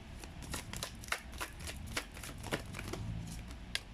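Tarot cards being shuffled and drawn, with a rapid run of crisp riffling clicks and slaps at close range and a few sharper snaps along the way; no talking.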